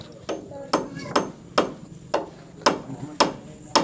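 Hammer blows on a house under construction, seven sharp strikes at a steady, slightly uneven pace, each ringing briefly, with faint background noise between them.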